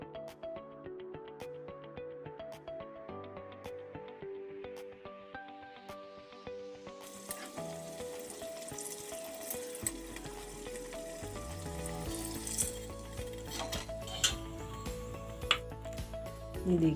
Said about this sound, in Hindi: इन्हें ऑयल में डीप फ्राई करते हैं।